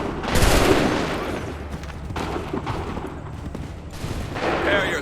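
A loud volley of gunfire opens a battle scene in an Assassin's Creed 3 cutscene, followed by continuing crackling shots and booming rumble that swell again toward the end.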